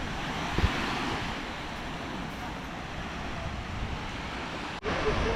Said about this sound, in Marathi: जबरदस्त असा बीच आहे हा पण.